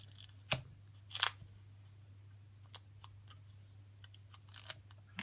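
Duct tape is peeled stiffly off the roll in a couple of short, rasping bursts, with small clicks and ticks in between, all faint and close in a quiet room.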